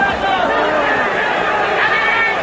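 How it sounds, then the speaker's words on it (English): Boxing fight crowd at the Freeman Coliseum during a bout, a loud continuous roar of chatter and cheering that fills the whole stretch without letup. "Enthusiastic fight crowd here at the Freeman Coliseum,"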